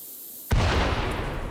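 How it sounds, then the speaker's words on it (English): A big explosion in the RimWorld video game: a sudden loud boom after half a second of quiet, followed by a sustained rumbling roar that stays strong to the end. "Big explosion."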